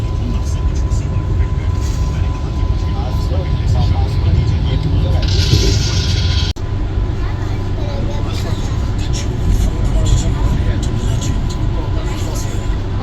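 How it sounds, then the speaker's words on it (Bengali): The Patna–Howrah Vande Bharat Express, train 22348, rolls into Howrah Junction, a loud steady rumble heard from inside the coach with people talking over it. "আমাদের ট্রেন কিন্তু হাওড়া জংশনে ঢুকে গেল একদম অন টাইম"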